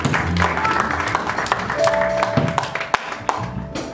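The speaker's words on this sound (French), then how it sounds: "Nous acclamons très très fort le Seigneur." A church congregation applauds and cheers in acclaim during a worship service, steady clapping with scattered sharp claps and voices mixed through the crowd noise.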